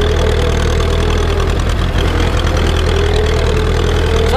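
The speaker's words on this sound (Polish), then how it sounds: "Traktor to traktor, wam powiem. Dziury, doły, nieważne, jedzie." An Ursus tractor engine idles with a loud, continuous low rumble and steady knocking throb, close up and alone without talk.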